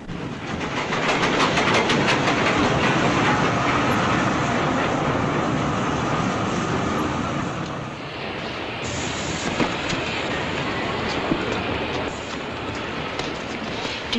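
A train stands at a railway station with a steady, loud rumble of rolling stock and machinery filling the scene throughout, easing slightly partway through, with faint voices beneath.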